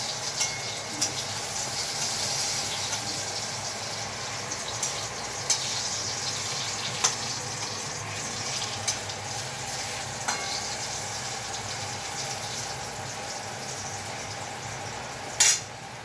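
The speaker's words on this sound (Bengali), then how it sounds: "এটা এবার কড়াইয়ে বেগুনটা ভাজা হচ্ছে।" Eggplant frying in a wok (kadai), a steady bright sizzle of hot oil running continuously, with occasional faint clinks and stirring scrapes, and no talk.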